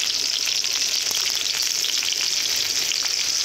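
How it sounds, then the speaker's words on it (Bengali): Cauliflower frying in a pan with salt and turmeric gives a constant, close, bright sizzle with faint stirring scrapes and no talking. "ফুলকপিগুলো ভালো করে ভেজে নেব।"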